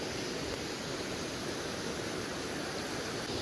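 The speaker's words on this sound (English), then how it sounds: "First waterfall. Not so natural coming out of a drain" A small waterfall pours from a drain onto an Oregon coast beach, giving a steady, full-band rush of falling water that holds constant throughout without pauses or voices.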